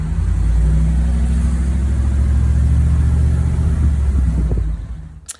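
An RV engine drones steadily while driving on the road from California toward Arizona, a loud continuous low rumble with road noise that fades off at the end.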